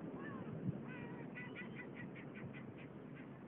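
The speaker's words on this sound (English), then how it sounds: "Oh, I hear the bird." At a beach, a bird gives a quick series of faint repeated calls, about eight short notes in a row, heard softly over wind and background noise.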